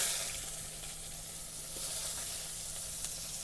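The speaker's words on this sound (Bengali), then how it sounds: "পেঁয়াজটা একটু লাল লাল ভাজা ভাজা হয়ে গেছে," Onions fry in hot oil with cumin seeds and bay leaf, giving a steady close crackling sizzle that runs unbroken and evenly loud throughout.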